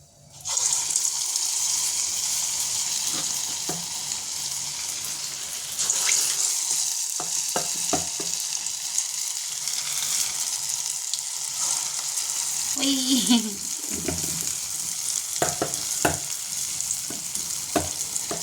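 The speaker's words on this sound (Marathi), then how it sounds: "मी कशी सोडते बघायचं का वडा" Vada frying in hot oil in a home kitchen, a steady loud sizzle running throughout with brief bubbling bursts and a few soft clinks, no voices.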